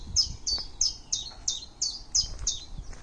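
A songbird sings in an oak tree on a hillside, repeating a bright, high chirping phrase about eight times in steady rhythm, clear and moderately close over faint background rustle.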